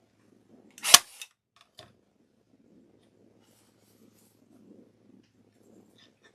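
One loud, sharp staple punch close to the mic while assembling a gingerbread wreath kit, then a smaller click and near silence.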